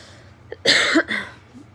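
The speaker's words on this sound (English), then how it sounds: "I'm coughing from anesthesia." A brief burst of two or three coughs close to the mic, with a quiet hum in the background.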